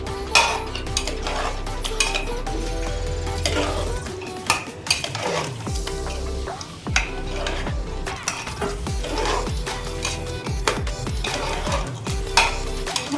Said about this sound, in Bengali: আরেকটু মরিচ গুঁড়া দিয়ে দিলাম। এবার এগুলি সবগুলি ভালো করে মিশিয়ে